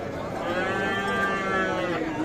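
Young calves and cattle at the Ambari cattle market, a sustained nearby moo rising and falling over busy market hubbub.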